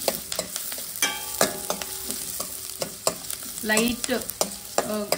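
Onions frying in a little oil for an Afghani egg curry, stirred with repeated scraping strokes over a steady background sizzle, close and moderately loud with no talking.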